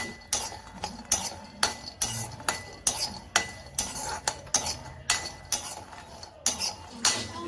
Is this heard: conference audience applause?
no